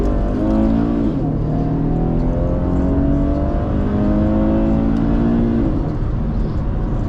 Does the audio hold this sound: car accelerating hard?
yes